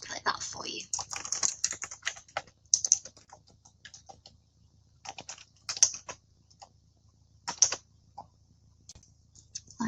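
Fingers tap a computer keyboard in uneven bursts while filling in invoice fields in accounting software. The crisp keystrokes and quick tab presses sound close and moderately loud, separated by short pauses.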